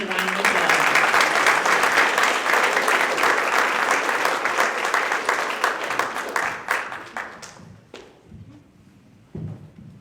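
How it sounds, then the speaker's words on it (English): A school board of education meeting audience gives a round of applause for students, dense steady clapping that fills the room for about seven seconds before thinning out into scattered claps and a few thuds. "Please give these students a round of applause."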